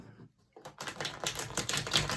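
A tarot deck is reshuffled by hand: after a brief pause comes a rapid, close, crackling riffle of cards, dense and clicky like fast typing.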